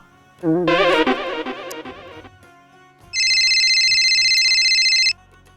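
A phone ringtone plays a short melodic burst, then after a pause a steady electronic ring sounds for about two seconds, loud and close.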